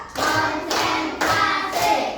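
Second-grade pupils in an Indonesian primary classroom clap in unison four times, evenly spaced, crisp group claps ringing close and bright in the room.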